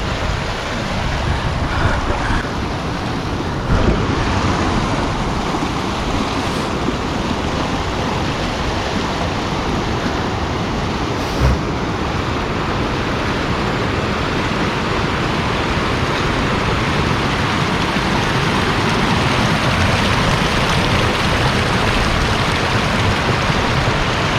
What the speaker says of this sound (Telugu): పక్కదంతా ధౌలీగంగా, గ్లేషియర్ నుంచి వస్తుంది వాటర్.